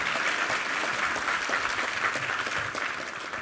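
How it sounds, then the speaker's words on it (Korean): Applause from a church congregation at a Sunday worship service, a dense steady wash of many hands clapping that holds for the whole stretch and eases slightly near the end. "우리 하나님께 감사와 영광의 박수 올려드리겠습니다"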